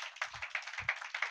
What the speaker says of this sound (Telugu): అందరూ చప్పట్లు కొడతారా?